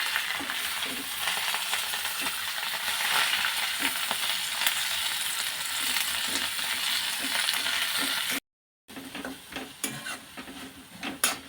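Amaranth greens (tandulja bhaji) are stirred in a hot pan, a continuous sizzle with scraping spatula strokes, briefly dropping to silence before resuming.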